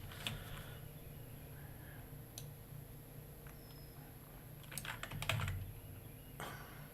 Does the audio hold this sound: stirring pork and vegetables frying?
no